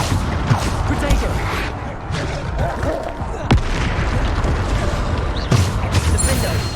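Spell blasts and explosions from combat in the video game Hogwarts Legacy, a dense stream of loud booming impacts with sharp hits around the middle and near the end.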